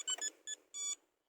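A Pandora DX-9 aftermarket alarm fitted to a Renault Kaptur chirps as it arms from the key fob: three short, clear electronic beeps, the last one longer, close and alone.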